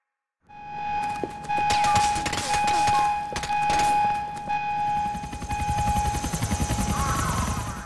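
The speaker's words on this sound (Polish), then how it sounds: "O, helikopter." Two helicopters in Grand Theft Auto 4 arrive during a prison break, with a steady rotor chop and turbine whine that swell and grow louder, close over gunfire-like thuds and game sounds.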